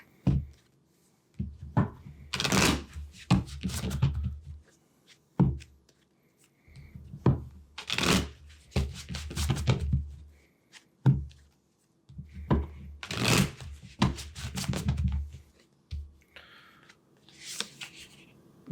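Tarot cards shuffled by hand in repeated bursts of crisp riffling and slapping, loud and close, with short pauses between bursts and no talking.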